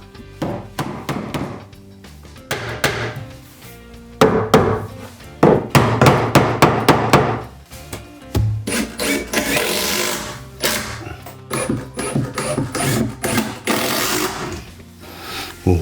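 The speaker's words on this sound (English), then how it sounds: "I use glue and screws together and fasten everything solid so that nothing moves." Power tool work on shelf boards for a custom household altar, screws being driven in bursts of whirring interspersed with hammer-like knocks, close and loud, with no talk over it.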